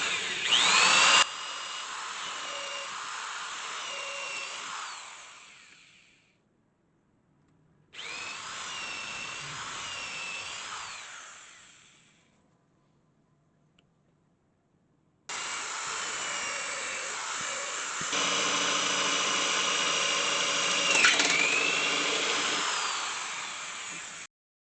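A power drill boring holes through a metal plate and wood for an old wood lathe build, three long high whining bursts separated by short pauses, loud and close.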